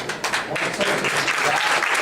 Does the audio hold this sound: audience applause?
yes